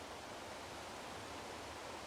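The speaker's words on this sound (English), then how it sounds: "Okay, here's another waterfall." A video game waterfall in Palia gives off a soft, steady rushing hiss, faint and unbroken for the whole short stretch, with no voices over it.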